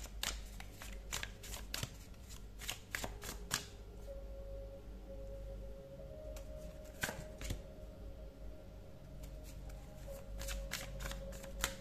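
Tarot cards are shuffled by hand in a quiet room, producing repeated soft riffling and tapping bursts in clusters, with no talking.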